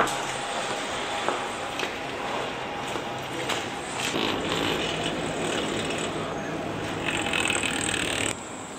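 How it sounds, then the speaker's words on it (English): Steady mechanical clanking and whirring of a lift mechanism running nearby, with wind noise and a brief voice partway through. "there's the chairlift I'm intending to go up to the top."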